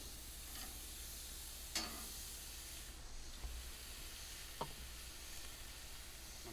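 Sauce-coated Memphis-style sausages sizzle on a hot grill as they are flipped, a faint steady hiss broken by a few soft clicks and taps, with no voices.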